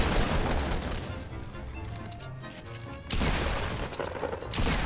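Gunfire in a Fortnite Battle Royale match comes as dense, loud bursts of rapid shots. A short lull breaks them before the firing picks up again, with no voices over it.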